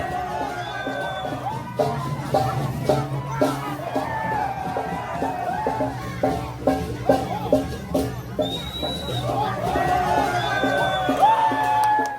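A crowd at the Ogoh-ogoh night procession in Bali, a dense murmur of many voices with shouts and whoops rising throughout, rhythmic percussion pulses underneath, and high chirping calls mixed in.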